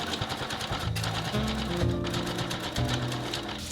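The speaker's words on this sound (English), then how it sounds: "So I'm going to sew a line just about here" A sewing machine with a heavyweight needle stitches slowly through very thick fabric for a coin pouch, making a loud, close, continuous mechanical whirr that shifts in pitch and speed as it runs.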